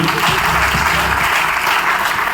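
Vigorous applause from a crowd at a company achievers' event in Meerut, dense, loud clapping that stays even throughout, with faint voices beneath it early on.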